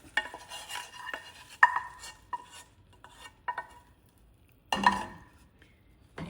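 Cranberry pickle being stirred in a large pan, with intermittent scraping and clinking of a utensil against the metal and a louder clatter near the end, close up with no talking.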